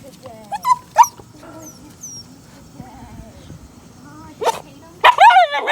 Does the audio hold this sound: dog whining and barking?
yes